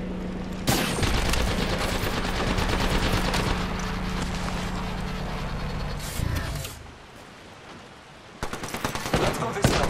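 Sustained automatic gunfire in the battle royale game Apex Legends, a loud close stream of rapid shots with a low rumbling drone, a brief lull, then fresh sharp bursts near the end.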